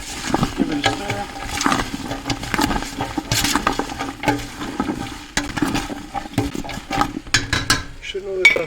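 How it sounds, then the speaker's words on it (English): A spoon stirs turkey vegetable soup in a pot, with continuous sloshing, scraping and knocks against the pot sides at close range. "give it a stir."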